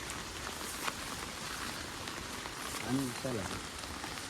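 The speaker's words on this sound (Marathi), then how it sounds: "पूर्ण काळोख करून असा पाऊस" Heavy monsoon rain falls steadily in Konkan with a dense, even patter, and a person's voice is heard briefly near the end.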